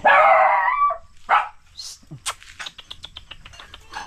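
A dog yelps loudly at first, followed by a series of short, sharp barks and yips close by, with brief quiet gaps between.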